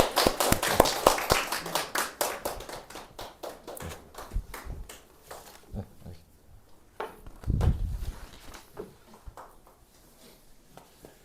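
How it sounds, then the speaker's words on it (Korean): A church congregation claps to welcome a visiting missionary during a Sunday worship service, a burst of dense applause at the start that thins into scattered claps and taps, with a thump partway through. "박수로 한번 우리 환영하도록 하겠습니다"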